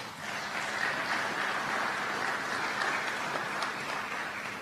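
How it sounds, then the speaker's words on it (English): A room of people at a Kentucky governor's bill signing applauding, steady mid-distance clapping that swells and holds for a few seconds before easing, no voices. "Let's give him another applause."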